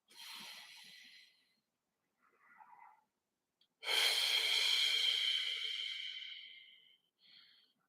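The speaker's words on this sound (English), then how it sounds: "Continue breathing in slowly with your nose and exhaling slowly with your mouth." Slow, deliberate breathing in through the nose and out through the mouth during a guided meditation, heard as a short airy inhale, a soft pause, then one long drawn-out exhale, close and alone without talk.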